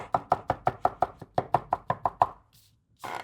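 Smoked Texas-style brisket chopped by hand with a knife on a board: about thirteen sharp, evenly spaced chops close up, followed by a short pause and a soft scrape or rustle.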